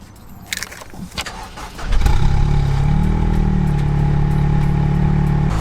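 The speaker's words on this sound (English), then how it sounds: "I have already started the engine." A Honda Civic Type R starts on the push button with a brief crank, then settles into a loud, steady idle that fills the rest of the clip, heard up close with no talk.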